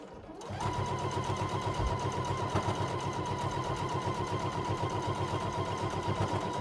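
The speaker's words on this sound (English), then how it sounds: "put your needle down, and you're going to sew around the whole tail" Sewing machine stitching around the tail of a fabric door bow, starting after a brief quiet moment and then running in a steady, fast mechanical whir with rapid needle ticks, close up and with no talking.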